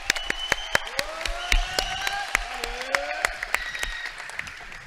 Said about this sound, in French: Allez, on s'applaudit un petit peu, on se chauffe.